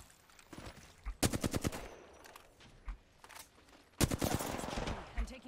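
Rapid automatic gunfire in an Apex Legends match on the Kings Canyon map, with two loud bursts of close shots separated by quieter stretches and lighter clatter in between.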